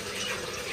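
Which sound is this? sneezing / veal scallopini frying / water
water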